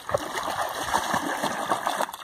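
A dog swims and splashes in water, steady close sloshing and splatter running throughout without talk.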